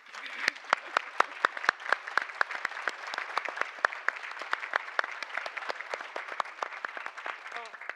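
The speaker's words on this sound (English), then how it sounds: "I'm not used to being applauded for reading a poem." Audience applause following a poem reading at a conference panel: sustained, lively clapping from a crowd, many distinct claps over a steady wash, continuing throughout.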